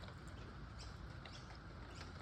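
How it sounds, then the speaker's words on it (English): Rain falling outdoors on a rainy morning, a steady, soft, even patter throughout with no breaks and no voices. "Can you hear the rain?"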